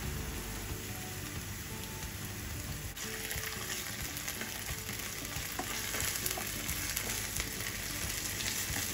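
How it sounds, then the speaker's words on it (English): Ginger garlic paste sizzles and fries steadily in a hot pan while being stirred, a dense continuous crackle with scraping stir sounds running throughout, close and fairly loud with no talking. "Ginger garlic paste. Stir and cook until the raw smell disappears."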